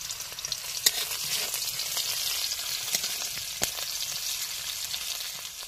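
Chopped onions sizzle steadily in hot oil while a utensil stirs and scrapes the pan now and then, close and bright with no voices.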